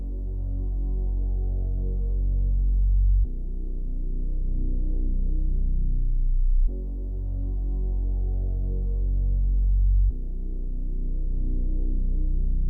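Deep, droning synth bass from the Bass Shark preset, holding long sustained low notes that change about every three seconds, with a steady throbbing hum playing alone.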